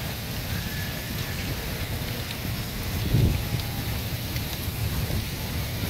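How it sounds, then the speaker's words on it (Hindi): Steady heavy night rain in Karachi pours in a dense, constant hiss, with a low rumble of thunder swelling briefly midway. "कराची में एक मरतबा फिर तेज़ बारिश का सिलसिला जो है वो शुरू हो गया है"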